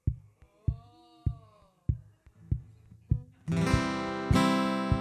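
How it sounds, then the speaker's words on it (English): Subtle, bassy heartbeat effect at a house concert: soft low double thumps repeat steadily, then a loud sustained tonal chord swells in and holds to the end. "So it's just a little subtle heartbeat tonight."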